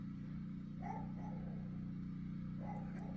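A dog gives a couple of short, muffled barks over a steady low mechanical hum from nearby power washing outdoors.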